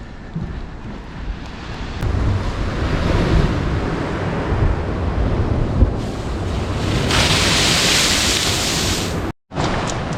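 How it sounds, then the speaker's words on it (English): Rough sea waves breaking against a coastal seawall on the English south coast between Brighton and Eastbourne, a steady loud wash of surf with heavy wind buffeting the microphone and a brief dropout near the end. "Looking a bit rough down there with the waves."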